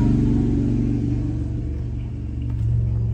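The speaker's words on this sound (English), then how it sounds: "There's a motorcycle about to roll by." A motorcycle rolls by outside with a continuous low engine rumble that swells slightly toward the end as it passes nearby, filling the whole stretch with no talking over it.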